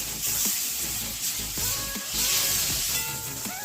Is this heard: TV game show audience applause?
no